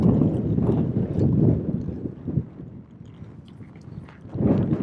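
A relaxed horse lopes while being ridden, its hooves making a close, rhythmic muffled drumming under gusty wind noise, fading slightly midway and returning strongly at the end.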